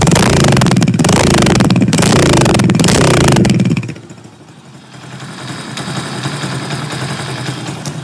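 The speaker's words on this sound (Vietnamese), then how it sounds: "Để mình nổ máy luôn cho các bạn ha." A Win-style 140cc motorcycle engine runs loud and steady with a clattering mid-pitched roar, then drops suddenly to a quieter idle that continues to the end.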